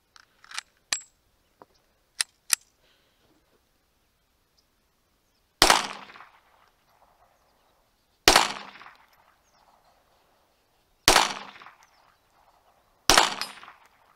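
A GSG 1911 .22 LR conversion-kit pistol fires CCI Blazer rounds at a target from fifty yards: sharp, well-spaced single shots, each with a short decaying ring, plus a few lighter clicks and taps early on.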